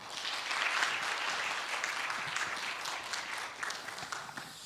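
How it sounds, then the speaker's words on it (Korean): Church congregation applauding to welcome a pastor at a New Year revival meeting, a steady wash of many hands clapping together in a hall, sustained and fairly even throughout. "나오실 때 박수로 환영해 주시고."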